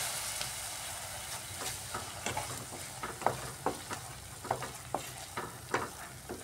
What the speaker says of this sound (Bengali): জল দিয়ে মশলাটাকে আমি একটু সময় কষাচ্ছি